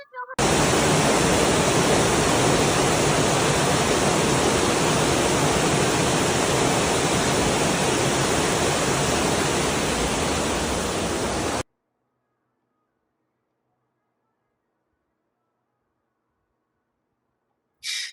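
Heavy rain and floodwater in Tokyo streets, a loud, steady broadband rush of pouring water that holds unbroken for about eleven seconds, then cuts to near silence.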